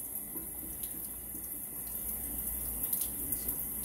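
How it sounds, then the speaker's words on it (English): Tap water runs steadily over a freshly butchered quail at a sink, a soft continuous splash with faint drips and light handling noises, fairly quiet and with no talking. "Let's give it a quick rinse, get some of these feathers off."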